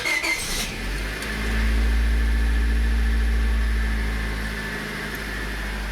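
A Honda Civic demolition derby car's engine starts up and settles into a steady idle, a loud continuous rumble up close with no talking.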